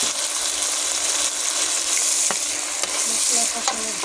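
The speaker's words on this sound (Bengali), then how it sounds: "মশলা কষানোর জন্য মশলাটি একটু এখন নেড়ে দিতে হবে।" Masala spices with a splash of water frying in a pan while being stirred, a dense loud hiss with a few scrape clicks from the spoon, close and continuous with no talking.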